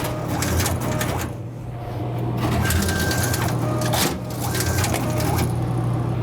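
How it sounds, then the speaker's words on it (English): A soda vending machine loads its rotor and vends a can, making loud continuous mechanical grinding and clunking with rattling bursts and brief dips, heard close and alone. "The first vend will take 2 pulls because it's got to load the rotor."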